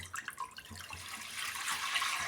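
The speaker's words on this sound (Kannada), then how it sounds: "ಸ್ವಲ್ಪ ನೀರು ಸೇರಿಸ್ಕೊಳ್ಳೋಣ." Water is poured into a pressure cooker heating on the stove for a sambar of raw peanuts and toor dal. There is a short splashing pour that builds into a fuller, steady gush near the end.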